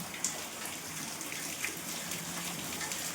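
Rain falling outside, a steady, moderately faint hiss of falling water with scattered soft drips, continuous and even throughout without talk.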